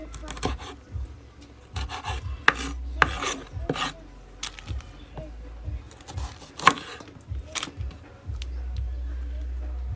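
A kitchen knife is sharpened with repeated rasping strokes, a series of close scraping swipes in irregular bursts with quiet gaps and small clicks between them.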